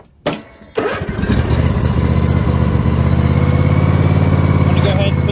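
A John Deere S240 riding mower engine cranks briefly, catches and settles into a steady, loud idle close by, with a voice heard in the background.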